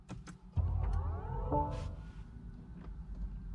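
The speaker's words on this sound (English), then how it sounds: "Wow, that's a pretty cool intro to starting the engine." A 2022 BMW i4 electric car powers up with a synthesized start-up chime: rising, swooping electronic tones sweep upward inside the quiet cabin, followed by a soft whoosh and a low hum, faint and close.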